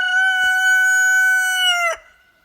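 A rooster in a backyard chicken coop crows once, loud and close, a sustained bright call lasting about two seconds before cutting off, with no other sounds around it.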